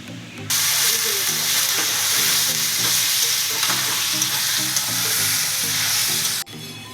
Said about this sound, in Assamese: মই তেলত এই হেৰি দি দিছোঁ, কি কয়, লং, ইলাইচি, দালচেনি, শুকান জ্বলা।